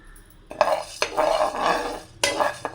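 Urad dal fries in a pan for poondu podi, starting quiet and then picking up as a utensil clinks against the metal pan and dry grains rattle and scrape during stirring, with faint frying underneath.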